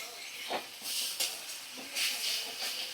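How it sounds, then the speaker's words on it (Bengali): Ginger garlic paste and spices fry in a pan for a Bengali fish dish, giving soft hissing sizzles that swell and fade in several bursts. "দিয়ে মশলাটা ভালো করে কষিয়ে নিচ্ছি"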